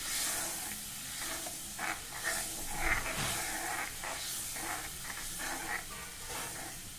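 Ginger curry with tamarind and jaggery simmers and reduces in a pan, giving a steady low hiss and bubbling sizzle with faint soft pops and stirring clinks throughout.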